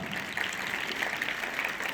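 A gathering of children and adults at a rationalist talk applauds after a child's speech, giving soft, even clapping that holds steady for the whole stretch at a modest level.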